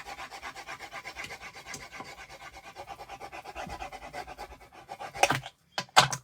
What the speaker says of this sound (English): let me just give this a good burnish down